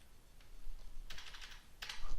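Typing on a computer keyboard: soft, quick clatter of keystrokes in short bursts, fairly close but quiet, with no talking over it.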